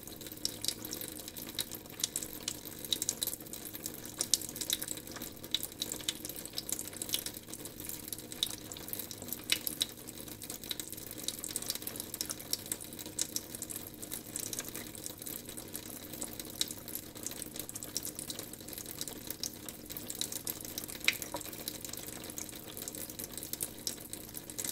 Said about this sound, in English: Time to wash my hands.